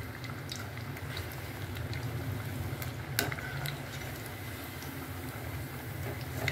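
Lentil vada frying in hot oil, a steady soft bubbling sizzle close by with a few light clicks, no one speaking.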